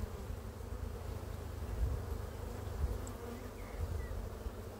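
Honey bees buzz at an open hive while a colony is being split. The hum is a steady, dense drone, close but soft, with a few louder passes from individual bees. No voices are heard.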